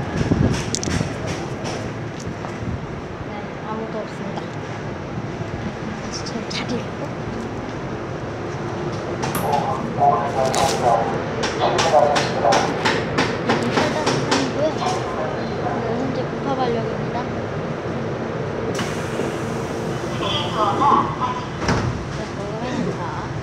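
A Seoul Line 3 subway train bound for Ogeum departs Gupabal station, with rail rumble and door sounds under a steady platform hubbub and a public-address voice speaking over it.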